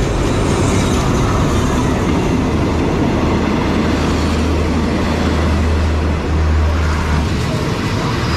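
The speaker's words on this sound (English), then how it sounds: "Finally, the train is coming after 7 hours of waiting." An overnight train to Chiang Mai rumbles into a station in Ayutthaya, close by, a heavy, constant roar with low grinding and rattling wheels, loud throughout.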